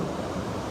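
Ocean waves and heavy swell heard from a sailing yacht at sea, a constant broad wash of surf and wind noise with no distinct breaks.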